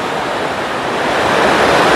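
Steady, loud rushing of the Jalandhari river on a Himalayan trek route in Uttarakhand, a continuous broadband roar of flowing water with no voices.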